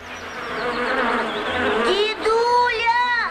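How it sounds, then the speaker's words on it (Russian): Cartoon bees buzz loudly in a steady, wavering drone that swells and bends in pitch, a close swarm-like hum filling the scene with no talking. "Я знаю, вы пчелки!"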